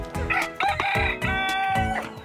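An Easter Egger chicken, suspected of being a rooster though hen-shaped, crows once in a long, clear cock-a-doodle-doo that rises and holds before trailing off, close by with no talk over it.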